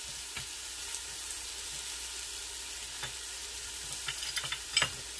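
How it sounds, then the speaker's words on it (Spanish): Chopped garlic cloves frying in a pan for soup, giving a steady soft sizzle throughout with a few light clicks of stirring near the end, close and without talk. "le voy a echar los dos dientitos de ajo igual picaditos"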